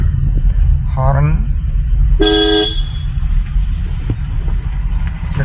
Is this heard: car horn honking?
yes